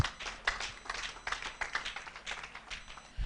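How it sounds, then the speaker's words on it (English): Scattered, fairly faint hand clapping from a church congregation at a prayer-line deliverance service, with uneven individual claps rather than a unified ovation. "Clap your hands together for Jesus."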